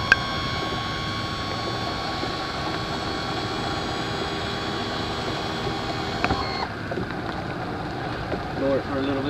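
Outboard motor trim and tilt unit lowering the engine, a steady mechanical whine with tonal hum that runs for about six and a half seconds, then cuts off sharply, leaving quieter background noise behind.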